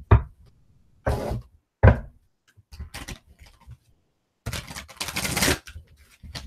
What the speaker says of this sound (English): thank you for your patience while I shuffle